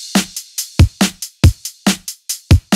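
Programmed kick and snare drums play a steady alternating pattern, with punchy low kick thumps and crisp snare cracks. The hits are close, loud and evenly spaced, with no other sounds around them.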